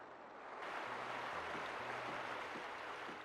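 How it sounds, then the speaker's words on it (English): Night sea waves in the Grandia game: a steady, soft broadband wash of surf that swells in after a moment and holds evenly, with faint low tones underneath. "The sound of night waves is so wonderful"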